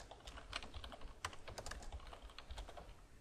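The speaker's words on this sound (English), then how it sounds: "by typing in a new password twice" Rapid keystrokes on a computer keyboard while a new password is entered, a quick irregular patter of close, crisp clicks with no talking.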